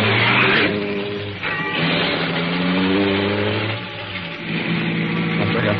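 A mid-sized car engine revs and pulls away as a car drives back onto the road in a radio drama, a continuous close engine drone that dips briefly and swells again.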